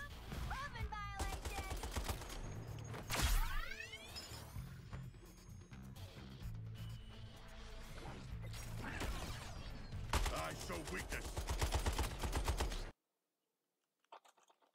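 Rapid gunfire while fighting enemies in Suicide Squad: Kill the Justice League, dense and continuous for about thirteen seconds with crashes and sweeping effects layered in, then cutting off abruptly to near silence.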